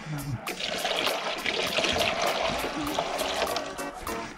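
Water trickles and drains in a thin, uneven stream outdoors near a UTB 445 DT 4x4 tractor, a continuous splashing dribble with scattered clicks and nearby voices talking over it.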